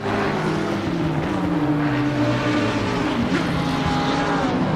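GT3 race cars in Assetto Corsa Competizione, a sim racing game: a loud, continuous engine roar with a steady droning pitch that shifts slightly as the cars push through the final sector, with no voices.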